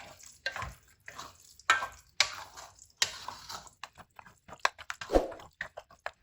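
An egg is worked into a mixture with a spoon or whisk, giving irregular wet clicks and soft scraping taps against the bowl, close and fairly quiet with no talking.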